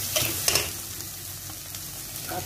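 Spices with sugar stir-fried in a pan for dhaba-style egg tarka give a close, continuous sizzle, with a few sharp spatula scrapes early on.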